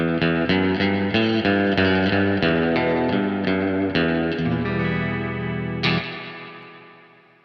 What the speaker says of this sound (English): What a wonderfully beautiful reverby pedal.